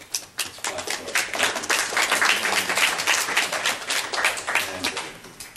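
Sustained applause from an audience at a cultural conference hall, dense clapping filling the whole stretch at steady loudness, with no speech over it.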